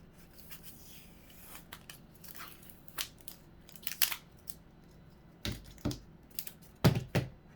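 Plastic sticker label peeled off a PSVR Aim controller during disassembly, heard as a run of short, sharp, close crackling tears and clicks that grow louder toward the end, with quiet pauses between.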